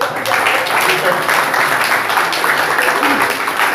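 A congregation applauds at a French-language religious gathering, a continuous, fairly loud bed of clapping with voices mixed underneath.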